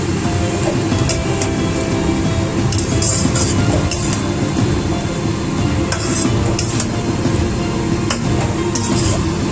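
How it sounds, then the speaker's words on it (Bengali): A metal spatula clinks and scrapes against a pan while sesame chicken with red and Kashmiri chilli powder sautés, repeated close clinks over a steady sizzling hiss, with no talking. "এবার আমি ভালো করে কষিয়ে নেব।"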